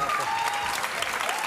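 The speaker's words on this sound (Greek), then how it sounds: "Ένα χειροκρότημα." Studio audience applause on a Greek TV show, a brief burst of steady, close clapping with a faint voice threading through it.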